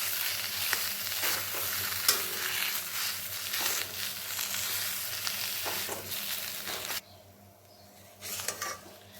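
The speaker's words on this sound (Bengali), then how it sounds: "এখন সমস্ত কিছুর সাথে আলুটাকে আবার খুব ভালো মতন মিশিয়ে নেব।" Mashed boiled potato being stirred into a sizzling fried prawn masala in a pan, a steady scraping and frying texture that runs continuously before dropping to a quieter pause near the end.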